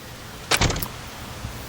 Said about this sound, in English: I waited a few more minutes until I heard her front door close.